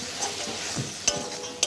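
Ground mustard and cumin paste fries with pabda fish in a pan, giving a low sizzle broken by a few sharp spatula scrapes and clicks as it is stirred.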